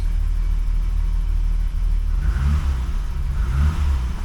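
The engine of a 1985 BMW 635 CSi running close by, a steady low rumble that swells twice as the revs rise briefly, with no voices.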